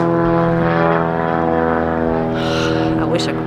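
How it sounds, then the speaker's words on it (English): A seaplane's propeller engine drones steadily overhead, a loud low hum with a faint rise in pitch as it passes, no talking heard. "Hold on, noise. See, oh, seaplane."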